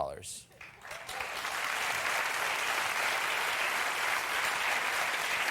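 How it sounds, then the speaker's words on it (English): A talk-show studio audience bursts into applause, with a brief sound at the start before the clapping swells into a full, sustained roar that fills the rest of the moment. "I don't really understand why you're applauding."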